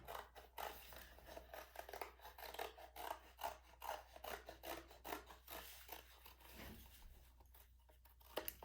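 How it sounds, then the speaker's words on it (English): Scissors cutting out a paper craft piece for a Mother's Day flower, quick rhythmic snips and rasping close up with short pauses, no talk. "I'm not even cutting on my lines. I'm just kind of cutting this out."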